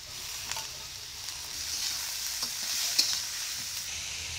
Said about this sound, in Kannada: ಹೈ ಫ್ಲೇಮಲ್ಲಿ ಇಟ್ಕೊಂಡು ನಾವು ಬಿಡದೆ ಫ್ರೈ ಮಾಡ್ಕೊಬೇಕಾಗುತ್ತೆ ಈ ರೀತಿಯಾಗಿ